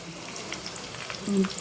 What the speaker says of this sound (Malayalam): ഇതൊക്കെ ഒന്ന് വറുത്തെടുക്കാം